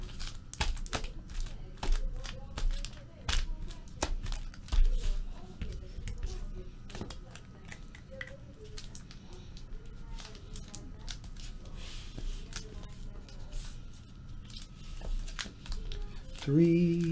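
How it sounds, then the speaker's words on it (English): Wrapped packs of 2016 Upper Deck Marvel Masterpieces trading cards are shuffled by hand, giving a string of sharp crinkly slaps and rustles at close range, with sparse talk. "I'll even shuffle the packs a little bit too."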